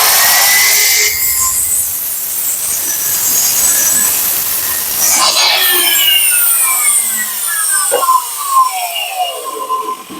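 A power saw rips through wood set at a 15-degree angle, a loud, steady grinding roar that ends in a falling motor whine as the blade spins down after a kickback.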